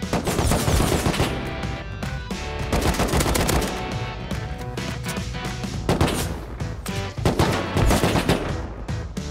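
Rapid automatic gunfire from a Star Wars–themed online survival shooter, dense loud bursts of shots rattling continuously throughout with no pauses.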